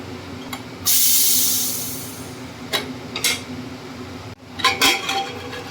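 A pressure cooker used for dal is opened: a loud rush of escaping steam hisses and fades over a second or so, followed by scattered metallic clinks of the lid and pot.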